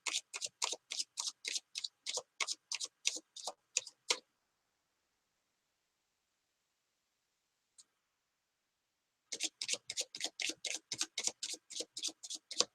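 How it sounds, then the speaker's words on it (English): Tarot cards riffle-shuffled by hand in quick, rhythmic bursts of crisp flutters, first in a run of about four seconds, then a long pause, then another steady run, close and clear with no talk. "I'm shuffling."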